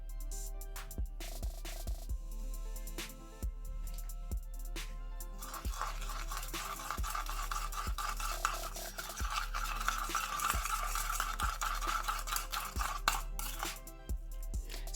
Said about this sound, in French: j'ajoute ma cuillère à soupe de bicarbonate de soude alimentaire